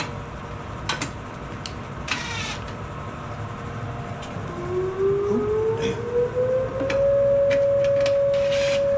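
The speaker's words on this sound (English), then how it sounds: "There goes the tornado sirens, man. This sounds wicked." An outdoor tornado siren winds up with a tone that rises steadily, then holds a loud sustained pitch. It sounds somewhat distant over background rumble and scattered clicks, heard during a noon test.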